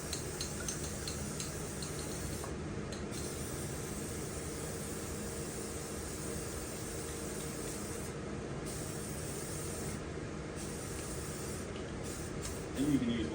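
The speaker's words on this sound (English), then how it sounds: "show you guys what happens when you do aerosol" An aerosol can of spray paint hisses steadily and close onto a chainsaw-carved log husky dog, a continuous even spray with only brief gaps.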